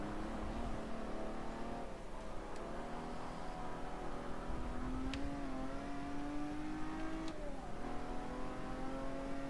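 A Ferrari in Forza Motorsport 7 drones steadily through its engine and muffler, the pitch climbing slowly as it accelerates, with a couple of brief gear-shift blips along the way.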